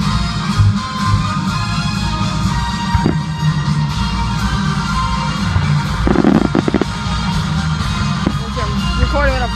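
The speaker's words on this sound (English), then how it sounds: "There's a firework." Fireworks burst at a Fourth of July show's grand finale, heard as scattered booms and sharp cracks over a constant outdoor crowd murmur with occasional shouts.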